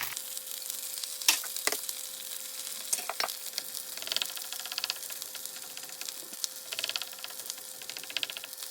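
Two eggs fry in hot oil in a pan, a fine steady sizzle with scattered sharp pops and crackles, close and moderately quiet.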